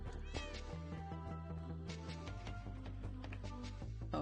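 A group of video game cats meows again and again, short and drawn-out calls layered over each other against steady background music.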